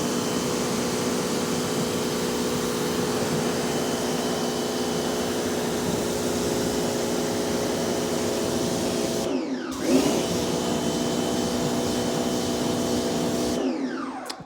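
A pressure washer blasts water onto a car wheel to rinse it down, a loud, steady close-up hiss and motor drone that runs continuously and briefly cuts out twice.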